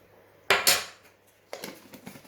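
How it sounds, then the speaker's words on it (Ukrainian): Two bursts of light clinking and rattling as a spoon taps and scrapes against a bowl while adding dried Italian herbs, with a quiet pause between them. "додаю я сюди пів чайної ложки італійських трав"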